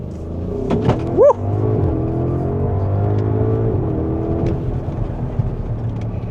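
A 2026 Audi SQ7 V8 SUV accelerating hard, its engine revving up loudly with a rising roar, then settling into a sustained powerful drone as it pulls away, heard from close by.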